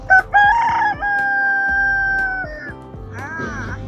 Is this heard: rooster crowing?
yes